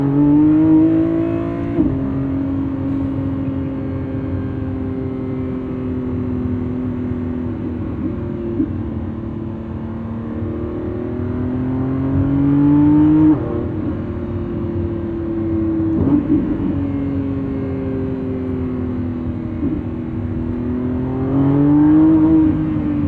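A Lamborghini Revuelto with a 1,001 hp V12 pulls hard during a night drive, its engine note climbing steadily through long rising sweeps, then dropping briefly at each upshift before building again, loud and continuous inside the cabin.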